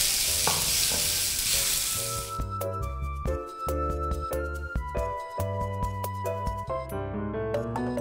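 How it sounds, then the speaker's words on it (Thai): Pork belly hits a hot pan of fried dried chili and garlic, setting off a loud, dense sizzle for about two seconds before music takes over for the rest. "พริกแห้งกับกระเทียมเหลืองหอมเรียบร้อยแล้วเนี่ยเราก็ใส่หมู3ชั้นลงไป"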